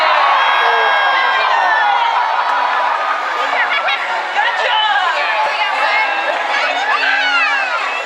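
A large audience cheers, whoops and chatters loudly and continuously after a volunteer is drenched by a cold wave at a night orca show in San Diego, with a voice speaking briefly over the crowd.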